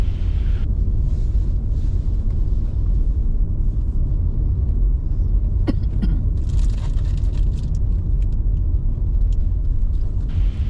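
A car driving on a winding road through Fruita Canyon, its low engine and road rumble loud and constant from inside the cabin, with a brief rattle or thump midway and no talk.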